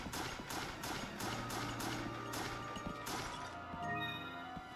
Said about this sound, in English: Obviously, if you hear footsteps, Steve, somebody is making those footsteps